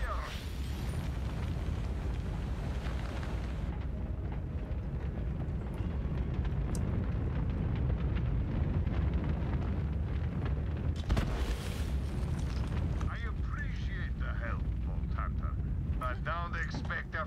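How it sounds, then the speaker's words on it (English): A fire burns across a firing range in the Borderlands 3 video game. A loud, continuous roaring rumble holds steady throughout, with brief crackling bursts toward the end. "my firing range is still on fire!"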